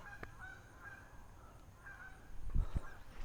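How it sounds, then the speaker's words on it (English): Geese beside the Ohio River give several honking calls at a moderate distance, spread across a quiet outdoor background, followed by a couple of close low thumps near the end. "You hear those geese?"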